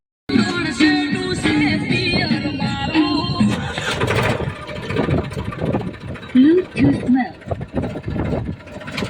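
A tractor engine chugs and rumbles throughout, with people talking loudly over the running motor.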